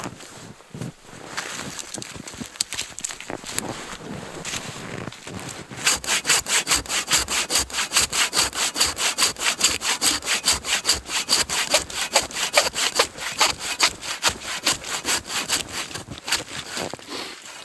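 Wood is cut with a hand saw in a steady back-and-forth rhythm, first uneven and hesitant, then settling into fast, regular rasping strokes that stay close and loud.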